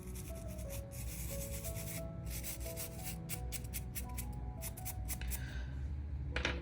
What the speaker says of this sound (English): I usually like to go in with my scrubby brush also around the cuticle and underneath the nail.